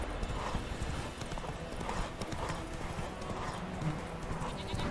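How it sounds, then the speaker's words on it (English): Rapid, rhythmic hoofbeats of a galloping horse in The Witcher 3: Wild Hunt pound on without pause, with a brief whinny and a dense game soundscape behind them. "Go faster, horse."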